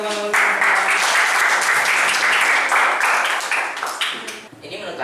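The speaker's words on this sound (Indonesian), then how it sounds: "beri tepuk tangan untuk teman-teman" Students in a classroom applaud their classmates with a burst of steady, fairly loud clapping that starts after a brief voice and lasts about four seconds before tapering off.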